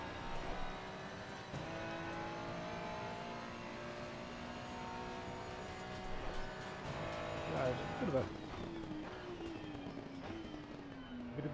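Porsche GT2 race car engine in Assetto Corsa Competizione at the Red Bull Ring, droning steadily with shifting pitch as gears change, with a voice talking over it throughout.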